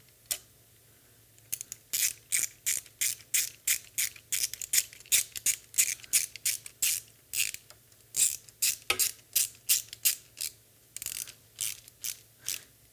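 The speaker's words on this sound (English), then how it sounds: "Okay, and then we're just gonna tighten that down all the way." A ratchet tightening a nut down onto a ring terminal while electronics are installed, with a long run of rhythmic clicking bursts from each swing, close and loud, over a faint low hum and no talking.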